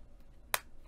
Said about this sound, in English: go ahead and snap that cuff on